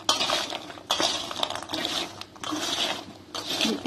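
Spiced maida cashew namkeen being mixed in a pan with a spoon, giving repeated scraping clinks and rustling in several bursts, close and fairly loud, with no talking.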